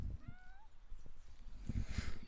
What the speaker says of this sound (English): I'm just looking at our cat here.